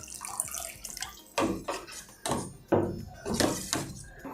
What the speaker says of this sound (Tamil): ஒரு கப் தண்ணி விட்டு அரைச்சிடலாம்